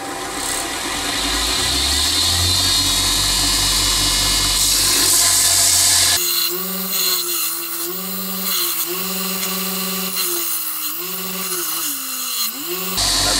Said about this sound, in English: I'm just going to tidy this one up on the linisher here, which is like a belt sander